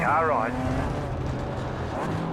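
A race car sweeps past in the iRacing BMW M Power Tour, a brief engine whine rising and falling near the start over a steady roar of engine noise, with a commentator talking throughout.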